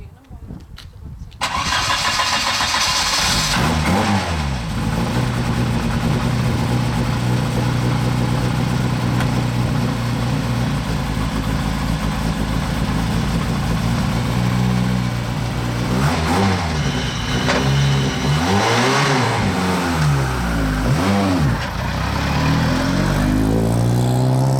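A rally car's engine cranks and catches, then revs hard and settles into rough idle, repeatedly blipping the throttle in loud, close bursts for over twenty seconds before heading out for a lap; the engine has an oil-pressure fault.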